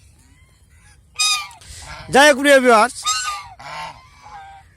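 Several geese honk loudly in a brief burst of harsh, nasal calls, with someone speaking briefly just before.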